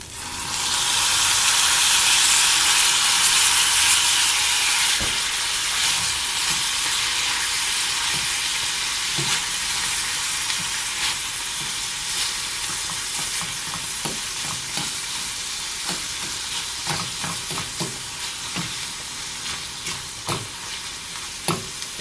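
Canned sardines with their olive oil hit a pan of browned onions and peppers, a loud bright sizzle at first that settles into a steady crackling fry, with scattered stirring clicks and scrapes up close, no voices.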